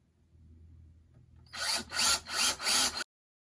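A power drill boring holes through wooden planter boards held in a vise, a faint low hum first, then three loud whirring bursts in quick succession, close up, with no talking.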